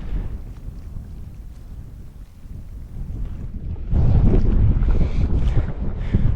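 Strong wind gusting across an open mountain campsite, a steady rushing roar that swells louder and rougher partway through and keeps buffeting the microphone with no voices.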